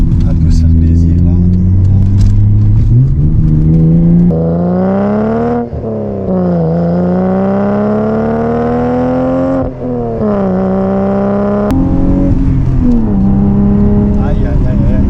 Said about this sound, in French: On entend ronronner le moteur, mais en vitesse, on n'est pas excessif.